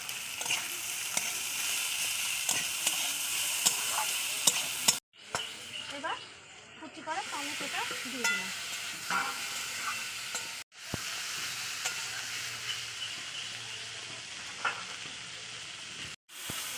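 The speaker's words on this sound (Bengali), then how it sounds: "দিয়ে দিচ্ছি মটরশুঁটি বাটা আর দিয়ে দিচ্ছি আদা বাটা" Pea paste and ginger paste sizzle in a hot pan while being stirred, with a continuous frying hiss broken by spatula scrapes and a few abrupt cuts.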